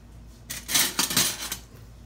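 A metal spoon scrapes and clinks against a pot of black-eyed peas cooked with ham, a short flurry of close, bright scraping knocks lasting about a second.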